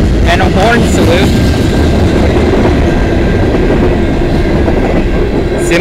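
CN freight train M302 rolling past at Clarke Road in London, Ontario, a loud continuous roar of wheels and railcars with rhythmic clatter, close by and sustained throughout.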